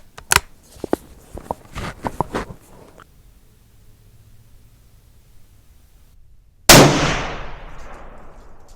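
A Ruger American Predator rifle fitted with a muzzle brake fires outdoors, first a run of sharp clicks and small cracks, then after a quiet gap one loud, close report with a long ringing decay.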